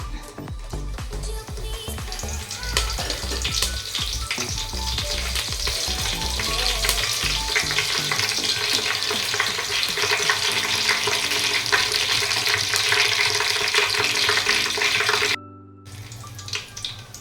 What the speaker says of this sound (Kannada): ಕರಿಬೇವೆಲ್ಲ ಚಿಟಪಟ ಅಂದಿದ್ದಾದ್ಮೇಲೆ